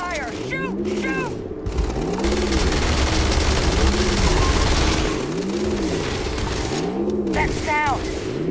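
Rapid automatic gunfire in the space game Starfield, a steady dense barrage with rhythmic booming pulses underneath, loud and continuous; a voice shouts commands over the shooting.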